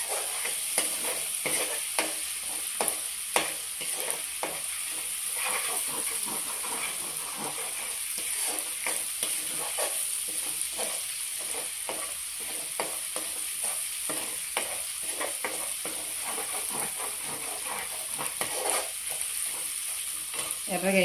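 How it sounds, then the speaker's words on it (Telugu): Ginger garlic paste fries in a pan while cooking gongura chicken, giving a steady sizzle and hiss with repeated scraping strokes of a spoon stirring it, close and continuous throughout. "అల్లం వెల్లిపాయ పేస్ట్ బాగా ఫ్రై చేసుకున్నాం."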